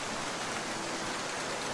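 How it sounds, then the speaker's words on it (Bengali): Rain falls steadily on the roof of a thatched hut in an animated tale, a constant even hiss with no voices. "কুড়ে ঘরের চালে বৃষ্টির একটানা শব্দ"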